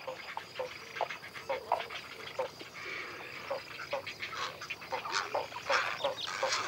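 Nesting colony of herons, egrets and spoonbills in old cork oaks in Doñana, giving a dense, continuous chorus of many overlapping croaks and squawks at mid distance, with no voices.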